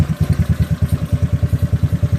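A GY6 scooter engine idles with the choke off, a close, rhythmic low putter of evenly spaced pulses, steady and alone with no voices.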